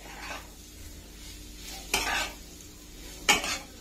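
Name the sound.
sautéing jackfruit with salt and chili in a pan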